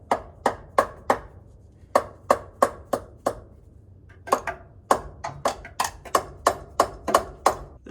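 Sharp hammer taps striking a stuck fuel system part on an abandoned project truck, about twenty distinct hits in short irregular bursts, close and loud with brief ringing decay between blows.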